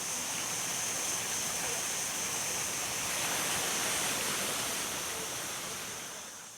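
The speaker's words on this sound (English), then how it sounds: "there is a very pretty little cascade of water going down there" Small water cascade in the gardens in front of an apartment block in Malaga, heard as a steady, even rush of falling water that holds constant and eases slightly at the end, with no voices.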